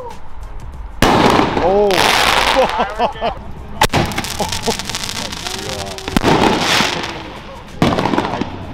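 A Toyota Supra's exhaust pops and bangs in a loud, rapid string of sharp cracks and bursts, shooting flames at a Southern California car meet, with people shouting and exclaiming over the blasts.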